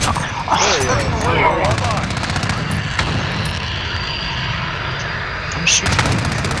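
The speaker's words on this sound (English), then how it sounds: "I'm shooting. He shoots me again, he shoots me." Gunfire in the shooter game Modern Warfare: scattered sharp shots and bursts over a steady battlefield din, with a louder crack near the end and a player talking over the action.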